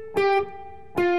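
Electric guitar plays a lead lick: two sustained, bent-sounding notes with a slide, the second ringing out, clean and fairly loud with no voice over it.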